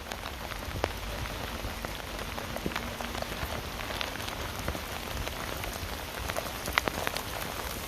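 Steady rain falls on a grassy path beside a football field in the woods, a dense, even hiss with scattered louder drops, close and continuous with no talking.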